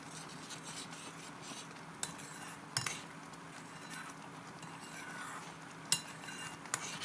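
A spoon scraping and clinking against a pot while tomato pickle is stirred, soft steady rubbing with a few sharp metallic taps, close and fairly quiet, no voices.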